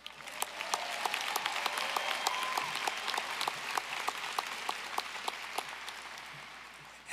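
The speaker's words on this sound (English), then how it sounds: "While we're clapping, we should clap for the class of 2026." Audience at the University of Evansville's 168th commencement ceremony applauding the graduating class, steady sustained clapping from a large crowd in a hall, fading slightly toward the end.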